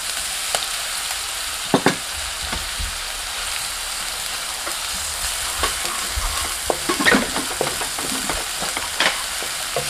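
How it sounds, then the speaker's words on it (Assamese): Ginger garlic paste frying with onions in a pan for a chicken kofta curry, a constant close sizzle with bursts of stirring scrapes and occasional louder pops, no talking. "আদা নহৰুখিনি অকণমান ভাজি লওঁ।"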